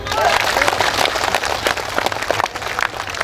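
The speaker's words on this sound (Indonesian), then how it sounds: "Tepuk tangan dulu." Audience applause at a comedic Bugis-language sermon, a dense crowd clapping that swells and thins steadily throughout, close and fairly loud, with a voice faintly underneath.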